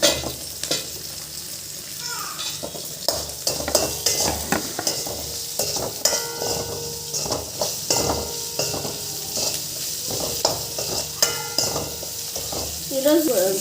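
Cumin seeds frying in a pan for a spinach-fenugreek chutney, a continuous sizzle with repeated spoon stirring and scraping clicks against the pan, close and steady.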